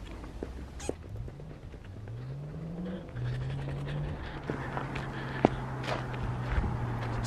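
A single-turbo BMW N54 car with a VRSF exhaust pulls hard in first gear, its low engine drone rising steadily in pitch, then levelling off into a sustained tone, heard from inside with faint interior noises.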